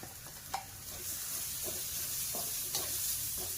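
Crushed garlic, cumin and green chili fry in a pan, a steady soft sizzle with a few light clicks of stirring, close and quiet, with no talking.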